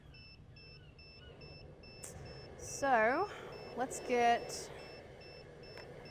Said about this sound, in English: Sorry about the beeping, it needs to be calibrated.